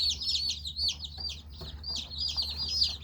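Mail-order baby chicks, Barred Rock and Rhode Island Red, peep in a shrill, busy, overlapping chorus close by, with no talking over them.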